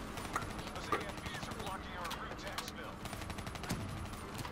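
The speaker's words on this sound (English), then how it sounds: "Oh, getting shot from behind." Gunfire striking the player in the Black Ops 3 campaign, a scatter of quiet sharp shots and impacts over a dense game background, with a player's voice talking over it.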